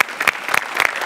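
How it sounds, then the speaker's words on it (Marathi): A short burst of dense audience applause at a comedy show stage, loud and continuous with no voices on top. "जोरदार टाळ्या"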